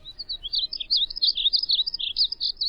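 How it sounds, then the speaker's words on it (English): A painted bunting (Passerina ciris) sings a rapid, high, warbling phrase of sweet chirps, clear and fairly close over a quiet background. "the living box of crayons, the painted bunting, Passerina cirrus."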